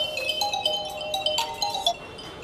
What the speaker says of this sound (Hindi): एक फ़ोन आ गया मेरा